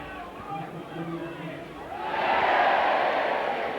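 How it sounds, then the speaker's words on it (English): A stadium crowd in the South Stand at a Leeds rugby league match swells into a broad, loud cheer that builds and holds, following a stretch of quieter crowd murmur with a commentator's voice. "And another cheer from the South Stand."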